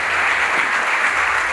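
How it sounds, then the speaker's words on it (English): Dense, loud applause from a standing audience at Accra Academy in Ghana, a brief unbroken burst of many hands clapping. "with a standing ovation, I want us to welcome Daniel Boyfield Jr."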